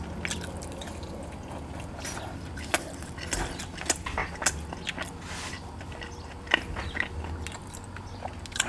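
Soft, close bites and wet chewing of pizza, with scattered crisp crunches and smacking sounds over a quiet room tone.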